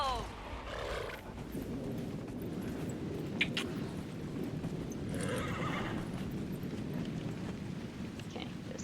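In Dragon Age: Inquisition, a horse whinnies near the start and hooves clip-clop steadily underneath, with soft game ambience and a spoken exclamation early on.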